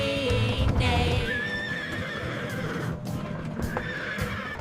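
Horses neighing on a farm, several shrill whinnies rising and falling in the first second and later, with a faint clip-clop of hooves and a soft background bed, fairly clear and close.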